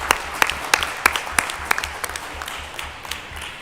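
Audience at a gender-just climate solutions event applauds, with a few prominent close claps in a steady rhythm over a lighter background of clapping, gradually thinning toward the end, and a low rhythmic thump underneath.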